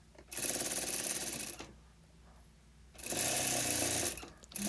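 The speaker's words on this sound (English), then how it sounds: "I'm trying to sew as close to the edge as possible. I just run my machine along that." Sewing machine stitching along a trouser hem in two bursts of rapid rattling, close and clear, separated by a short quiet pause.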